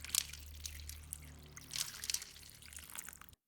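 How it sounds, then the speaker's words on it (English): Water poured into a pot of cut grapes, a soft close trickling and splashing that rises and falls for a few seconds before stopping. "Then, add 500 milliliters of water."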